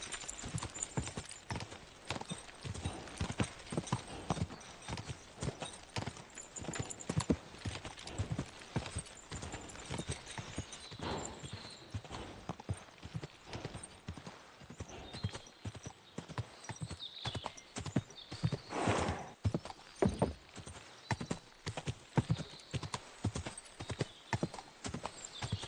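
Horse hooves clip-clopping in the video game Kingdom Come: Deliverance 2, a continuous brisk rhythm of hoofbeats heard up close for a long stretch, with occasional faint voices in the background.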